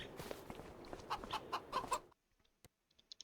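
Chickens in Farming Simulator 25 cluck in a short run of close, repeated clucks over a busy background, which then cuts to near silence with a few faint clicks.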